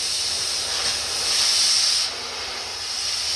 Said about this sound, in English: Then you hit the button. See how it's spraying the metal out? You start moving the torch.